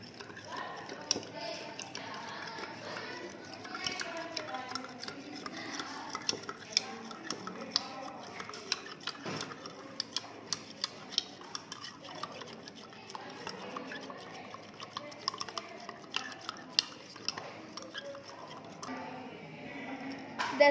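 Salt is stirred into water in a glass beaker, a faint, continuous run of small clinks and taps from the stirrer against the glass, steady throughout with quiet background noise.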